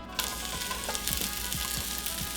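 Onions fry in smoking-hot oil for a shrimp curry, a dense, continuous close sizzle with faint occasional stirring sounds and no talk.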